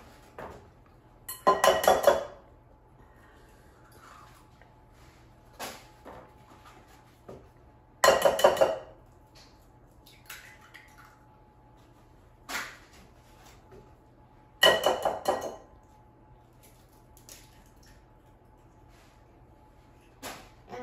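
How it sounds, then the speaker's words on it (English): Three eggs cracked one at a time into a bowl, each a sharp clinking tap on the rim followed by a brief wet crackle, spaced several seconds apart in a quiet kitchen. "let's start by cracking 3 eggs in a bowl"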